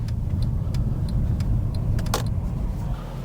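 A Mercedes AMG pulls over while driving: a steady low engine and road rumble runs under a run of light regular ticking clicks, with a brief higher squeal near the end.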